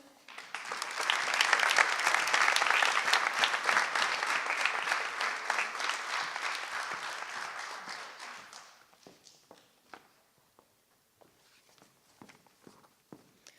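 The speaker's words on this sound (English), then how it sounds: "give a warm round of applause to congratulate the newest members" A crowd applauds for several seconds at a National Honor Society induction ceremony, the clapping swelling then fading to a few scattered last claps and quiet footsteps.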